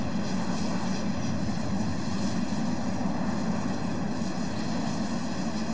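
Tu-144S supersonic airliner in the Roblox game Aeronautica rolling for takeoff, a steady loud engine roar with broadband rumble that holds constant throughout.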